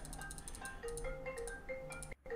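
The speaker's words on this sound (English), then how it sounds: "somebody's calling my work phone" A work phone ringtone plays a repeating melodic pattern of clear electronic tones, steady and moderately loud, cutting out briefly near the end before resuming.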